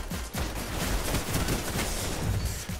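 Lampad SR4 scout rifle firing in Destiny, a dense, continuous burst of game gunfire filling the whole stretch at steady loudness with no break.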